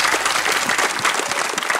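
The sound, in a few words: applause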